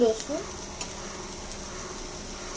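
Ginger dropped into hot oil in a frying pan while cooking, giving a steady, moderate sizzle throughout with a few faint clinks near the start.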